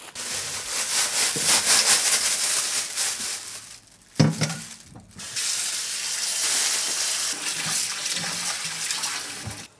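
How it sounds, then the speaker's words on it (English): Soybean sprouts washed under running water, a loud continuous splashing stream with a short pause and clatter midway before the flow resumes, no voices. "8 ounce soybean sprouts, let's wash."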